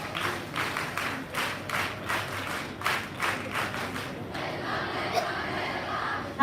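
Audience at a Guides testing camp valedictory function claps in rhythmic bursts, moderately distant, fading into murmurs and a brief voice toward the end.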